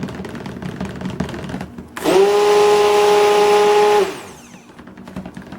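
A stick blender whirs in a steady burst of about two seconds while mixing soap batter, loud and close, starting and stopping abruptly against quieter background handling.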